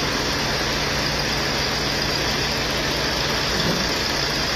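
A Volvo 500 truck engine runs steadily after its cylinder head was removed and refitted, giving a constant loud idle drone with no change in pitch and no one talking.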